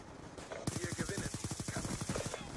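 Automatic fire from the M8A1 rifle in the video game Black Ops 2: a rapid, steady burst of roughly twenty evenly spaced shots that keeps going to the end, moderately loud.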